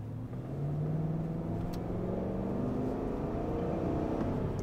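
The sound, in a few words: Chevrolet Tahoe engine accelerating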